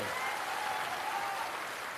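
An audience claps at a public political dialogue event, a dense, steady wash of many hands applauding throughout.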